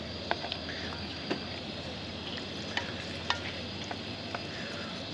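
Food sizzles while it cooks on a boat stove on the Norfolk Broads, a steady soft frying hiss broken by small pops and ticks, heard close and fairly quiet.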